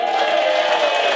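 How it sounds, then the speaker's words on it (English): A loud, dense round of applause from a comedy club audience at a stand-up night, a steady wash of many hands clapping at once. "give a round of applause"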